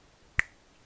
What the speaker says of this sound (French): il y a un bruit de claquement de doigts comme ça